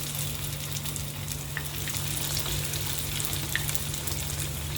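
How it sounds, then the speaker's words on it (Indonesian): Banana fritters fry in very hot oil, giving a constant close sizzle with scattered small pops and crackles and no talking. "Masukkan ke minyak yang benar-benar sudah panas."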